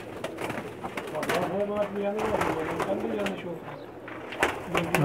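Pakistani pigeons coo repeatedly on a rooftop loft in Jeddah, Saudi Arabia, the soft rolling calls close and clear, with someone talking over them throughout.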